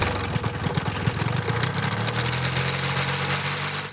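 A paramotor engine running during a powered paragliding flight in the Marsica area, a steady buzzing drone with rapid pulsing firing strokes and some vibration, moderately loud and continuous with no talk over it.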